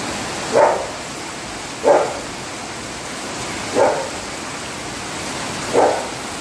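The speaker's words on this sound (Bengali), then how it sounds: "এত বৃষ্টি হচ্ছে এত মুসলধারে বৃষ্টি" A heavy monsoon downpour pours steadily over a house with a leaking roof, making a constant dense hiss. A dog barks four times at regular intervals, with a moderately close single bark about every two seconds.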